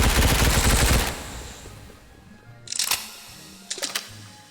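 Squid Game video game gunfire: one dense burst of rapid shots, then two sharp separate shot clusters after a quieter pause, all up close.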